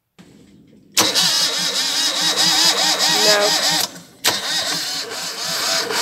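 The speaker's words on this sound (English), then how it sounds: "that's the starter motor starting to fail." A sailing yacht's boat engine with a failing starter motor: a sudden loud cranking, grinding whir that runs for about three seconds, cuts out briefly, then resumes, with a short spoken word early on.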